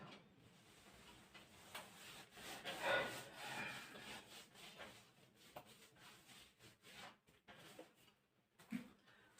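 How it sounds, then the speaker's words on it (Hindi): Soft, irregular rubbing and scrubbing as writing is erased from a board during an accounting lesson, faint and continuous with small knocks and scrapes. "इसे रब कर देता हूं।"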